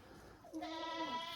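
A single goat doe, a red dapple, gives one clear wavering bleat that starts after a quiet moment and carries on to the end, close and distinct.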